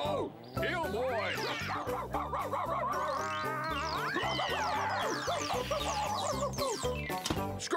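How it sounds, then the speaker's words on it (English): A cartoon dog from Bob the Builder barks and yips excitedly in a busy run of repeated barks, mixed with music and voices from the show. "Scrufty! You naughty dog! Heel boy! Sit!"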